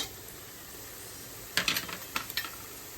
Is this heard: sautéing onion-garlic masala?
yes